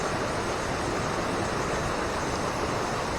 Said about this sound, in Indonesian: 2 air terjun dalam satu tempat